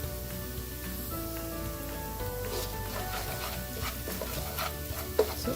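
Onions and spice paste fry in a pan for ghee rice with cashews, giving a quiet, steady sizzle with occasional stirring scrapes over faint tonal background sounds.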